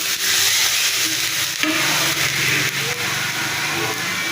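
Water added to spices frying in a pan brings a loud, steady sizzle and steamy hiss, with stirring scrapes and a few utensil knocks throughout, close up.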